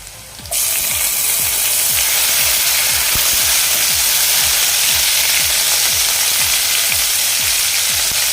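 Chopped tomatoes drop into a pan of frying garlic and set off a loud, steady sizzle that starts abruptly and holds at full strength, with faint rhythmic scraping of a spoon against the pan underneath.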